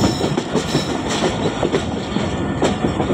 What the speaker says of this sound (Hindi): तो लोकोमोटिव ने कर्व ले लिया है